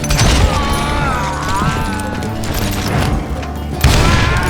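Rapid gunfire from a regiment of hired guns in the Western shooter Call of Juarez: Gunslinger, a dense barrage of overlapping shots and booms with heavy low thumps, loud and continuous, with a fresh burst near the end.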